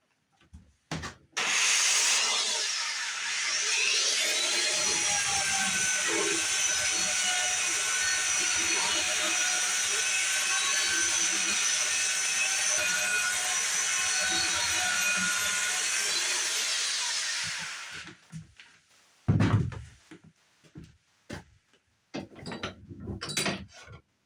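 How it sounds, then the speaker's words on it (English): A belt sander grinds bumps off a curved wooden hand sled part clamped in a vise, a steady loud whine running unbroken for about fifteen seconds before cutting off, followed by scattered knocks and handling noise. "we're going to clamp this in a vise and put the belt sander to work"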